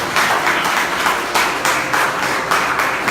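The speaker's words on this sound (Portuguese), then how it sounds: "Uma salva de palmas ao Senhor." A church congregation claps in steady, rhythmic bursts, the applause loud and continuous throughout.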